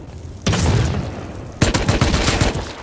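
Automated turrets firing in the survival game Rust, two sudden bursts of rapid gunfire, the second sharper and more clearly rattling, each cutting in loudly after a brief lull.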